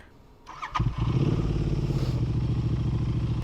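A Royal Enfield Continental GT motorcycle engine starts with a clatter and settles into a loud, steady, throbbing idle close by.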